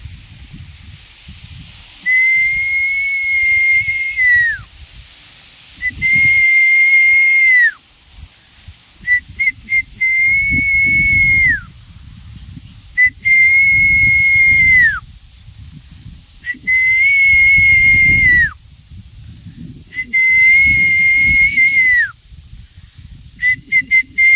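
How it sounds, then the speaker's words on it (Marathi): A person gives long, loud whistles to call dogs, about six sustained blasts each ending in a downward slide, with quieter shuffling and rustling between them. "अशी शिट्टी मारल्यावर मित्रांनो त्यांना असं भास होतं की काहीतरी संकट आले"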